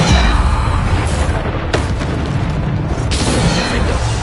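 Bombarda spell blasts in Hogwarts Legacy, a dense run of loud booming explosions and bursts layered over continuous game combat noise, with sharp impacts near the start, middle and end.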